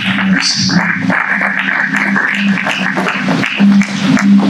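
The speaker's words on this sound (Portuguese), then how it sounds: "Uma salva de palmas." Loud applause from a church congregation during a service, continuous clapping over a sustained low instrumental drone, with no clear speech.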